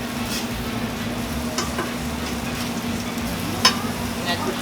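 Crab cake frying in butter on a griddle, a soft steady sizzle with a low hum beneath and occasional faint scraping or tapping, fairly quiet.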